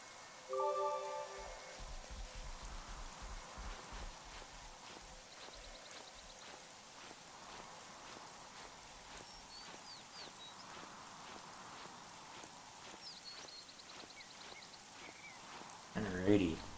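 Steady, faint rain falls in the Xenoblade Chronicles 3 video game world, a soft continuous patter under quiet game music with a few brief louder game effects.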